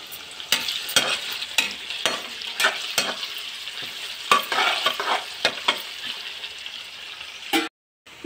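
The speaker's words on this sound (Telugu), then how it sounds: "వేయించుకోవాలి ఆయిల్లో" Bay leaf and cinnamon sizzle in hot oil in a pan, a steady bright frying hiss broken by repeated sharp scraping stir strokes, close and fairly loud with no voices, ending in a brief dropout.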